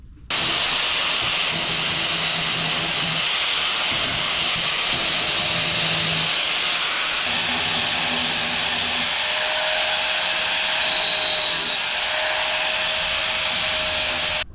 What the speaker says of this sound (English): So we're gonna grind it down.